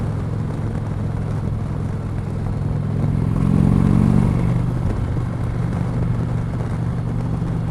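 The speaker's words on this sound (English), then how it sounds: "even with the stock exhaust, it actually sounds pretty darn nice" An Indian Chieftain motorcycle on its stock exhaust rumbles steadily and close, swelling briefly to a louder, throatier pull partway through before settling back to an even drone, with no talking.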